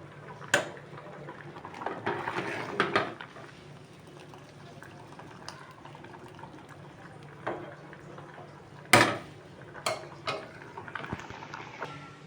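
Dry rice rattles into a cooker pot in a couple of short pours, with scattered clinks and a soft background hiss.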